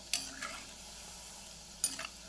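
Quiet, steady sizzling of maida dough pieces for shakarpara frying in hot oil, with two brief scraping stirs and no talking.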